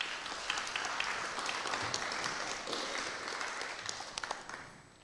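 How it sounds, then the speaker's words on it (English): An audience applauds for a speaker at a charity's 40th anniversary supporter celebration, steady broadband clapping filling the hall for about five seconds at moderate level with a few sharper individual claps near the end. "So a round of applause for Sam"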